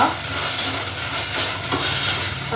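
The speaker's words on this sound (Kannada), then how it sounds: "ಸೊ ಇವಾಗ ಈ ತುಪ್ಪದಲ್ಲಿ ಚೆನ್ನಾಗಿ ಫ್ರೈ ಮಾಡ್ಕೊಳ್ಳೋಣ, ಹಸಿ ಸ್ಮೆಲ್ ಹೋಗೋ ತನಕ" Field beans fry in hot ghee for a festival payasam, producing a close, steady crackling sizzle with soft stirring underneath.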